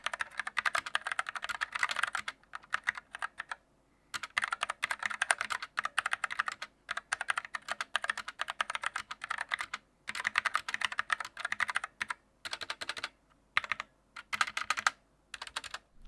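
A Glorious modular TKL keyboard with ABS keycaps is typed on in quick, clicky bursts with brief pauses between runs, close and fairly quiet with no talking.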